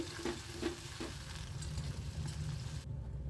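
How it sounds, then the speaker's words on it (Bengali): Whole cardamom, cinnamon and cloves with chopped tomato frying in oil in a pan, a steady close sizzle with light stirring clatter throughout, cutting off near the end. "এই তেলেই দিয়ে দেবো এলাচ দারচিনি লবঙ্গ ফোড়ন আর দিয়ে দেবো একটা বড় সাইজের টমেটো ডুমুডুমু করে কেটে দিয়ে দেবো স্বাদ মতো নুন"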